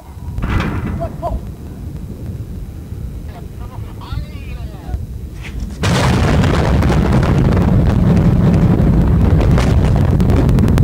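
A water tank explodes outdoors in China with a sudden deep boom midway, after which a loud, sustained roar carries on, while excited people shout and exclaim nearby throughout.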